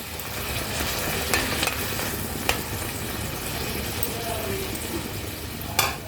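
Water goes into a pan of fried spice paste for a chickpea curry. A dense, steady sizzle and bubbling hiss carries through the whole stretch, broken by a few faint clinks of the spoon.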